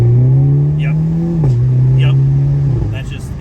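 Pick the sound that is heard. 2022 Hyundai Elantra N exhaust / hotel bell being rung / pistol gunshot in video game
2022 Hyundai Elantra N exhaust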